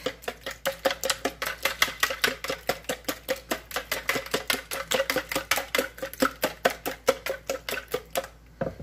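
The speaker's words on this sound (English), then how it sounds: "So we're going to whisk." Ingredients for savory sweet cornbread dressing whisked briskly in a bowl, producing a fast, even series of close clicking and tapping strokes that run steadily for several seconds before stopping.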